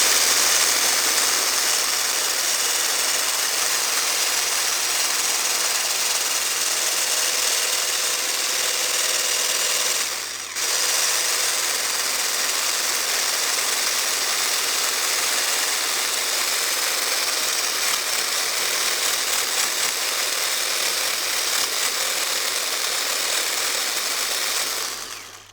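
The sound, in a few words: electric whisk whisking egg whites until frothy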